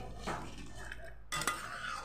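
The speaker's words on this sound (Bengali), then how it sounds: "তো এবার এটাকে আমি নেড়ে চেড়ে পুরো নামিয়ে নেব।" Spoon scraping and clinking in a pan of spiced jackfruit and prawn curry with garam masala, a few close utensil strikes and stirring scrapes over a steady low kitchen hum.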